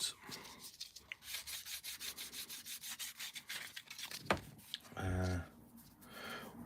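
Sanding sticks rub against a plastic Airfix Concorde model kit in quick repeated back-and-forth strokes, close and fairly quiet, with a brief louder scrape near the end.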